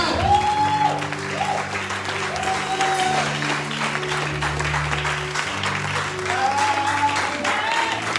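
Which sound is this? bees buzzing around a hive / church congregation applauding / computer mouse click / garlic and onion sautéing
church congregation applauding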